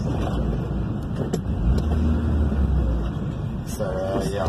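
After a head gasket replacement, the engine of a 1986 Honda Civic wagon runs with a steady close hum and rumble, a brief soft voice heard near the end.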